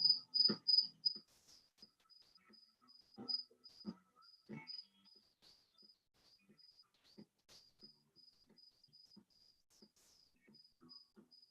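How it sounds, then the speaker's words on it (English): A high, steady cricket chirp repeats in short pulses throughout, with soft scattered knocks and rustles nearby. "Oh, you can hear the crickets, Sandy."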